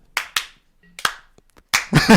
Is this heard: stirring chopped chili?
no